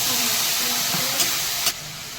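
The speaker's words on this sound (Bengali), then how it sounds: "এবারে এই শিল দেওয়ার জলটা একটু দিয়ে দেবো" Steady close sizzle and hiss of water poured into a pan of frying spiced snail curry with ground masala, a broad continuous crackle with a couple of brief sharp spits, no talking.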